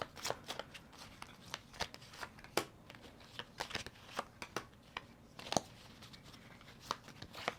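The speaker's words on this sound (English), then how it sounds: "How I do this is I lay 3 cards face down," Tarot cards being laid face down on a table, giving a steady series of close, soft card slaps and shuffling swishes.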